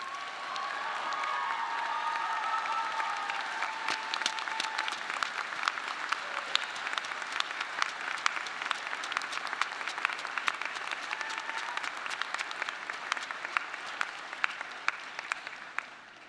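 Sustained applause from a large audience at a college baccalaureate service as families rise to be honored, with a broad crowd rumble and faint cheers under clapping that grows steadily crisper and more distinct over sixteen seconds.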